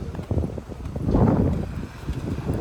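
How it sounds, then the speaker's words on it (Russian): Cold wind blows by the sea in Odessa, buffeting the microphone in a low, rumbling rush that swells in the middle and stays loud and close throughout. "Честно, ветер очень холодный."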